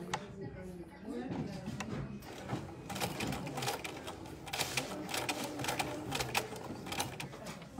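Domestic sewing machine stitching a pencil case, running forward then in reverse in short rapid bursts of mechanical clatter, close and moderately loud, with someone speaking French over it.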